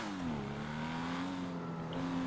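An Ocelot Pariah sports car engine in GTA 5 revs and accelerates steadily, a loud continuous motor roar with a rising pitch.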